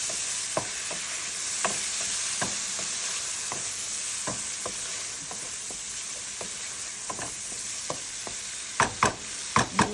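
Chopped prawns sauté in a pan with spices, giving a steady close sizzle broken by a string of sharp spatula scrapes and taps, with a few louder clacks near the end.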